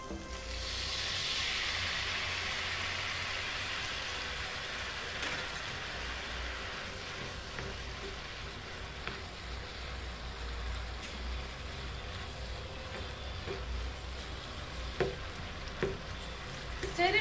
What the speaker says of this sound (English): Let's saute it for 5 more minutes.